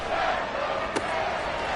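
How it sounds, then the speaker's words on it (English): Stadium crowd in the Madden football video game, a loud, steady roar of cheering from many distant voices with one brief thump partway through. "this crowd doing their best to make a lot of racket"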